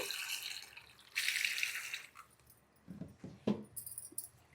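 Running water washes fenugreek leaves in a sink, a brief steady gush followed by quieter trickles, wet handling and a few clattering knocks close by.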